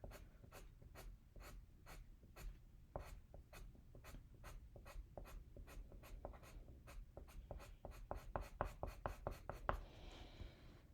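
A charcoal pencil makes firm, regular scratchy strokes as it draws curly hair lines on paper with heavy pressure. The strokes come close together in a steady rhythm and speed up toward the end, quiet and close up.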